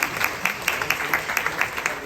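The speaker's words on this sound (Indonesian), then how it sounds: "Ada tepuk tangan" Guests clapping at the close of a Batak wedding ceremony in a hotel, a short burst of quick, fairly even hand claps at moderate loudness.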